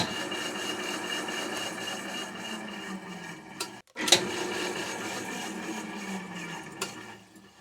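A restored Walker Turner 20-inch drill press motor runs with a steady, fairly quiet electric hum and whine, briefly interrupted by a clunk partway through, with no talking.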